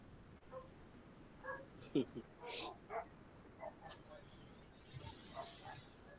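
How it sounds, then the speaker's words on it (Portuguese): A small dog barks faintly in the background, a few short, scattered yaps spread over several seconds in an otherwise quiet indoor space. "tem um cachorrinho latindo"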